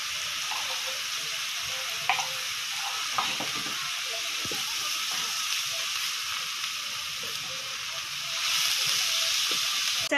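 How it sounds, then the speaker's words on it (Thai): Water mimosa is stir-fried in a pan with oyster sauce and a little sugar, making a continuous loud hissing sizzle with occasional soft scrapes and knocks, the hiss swelling near the end. "อย่าผัดนานค่ะผักกระเฉดเขาจะเหนียว"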